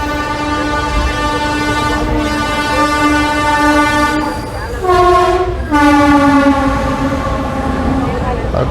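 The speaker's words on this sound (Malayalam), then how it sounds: "അപ്പുറത്തെ ട്രാക്കിൽ കൂടെ ഒരു ട്രെയിൻ ചീറിപ്പാഞ്ഞ് പോകുന്ന ശബ്ദമാണ് കേട്ടത്" A passing train on the neighbouring track roars by at speed next to a moving express between Tirupati and Chennai, its horn blaring in sustained loud tones that dip and shift in pitch as it goes.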